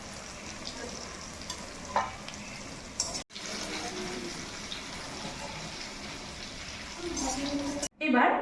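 Chicken skin fries in hot oil in a pan with a steady close sizzle and occasional stirring scrapes, cut by two brief breaks.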